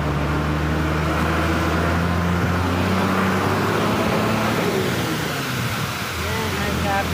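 A vehicle on a mountain road on the way to Kedarnath, passing under a waterfall, gives a steady loud engine and road rumble throughout, with low tonal hum and a voice faintly present.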